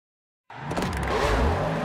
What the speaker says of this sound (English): These are 1/18th scale RC cars that are fully autonomous thanks to reinforcement learning.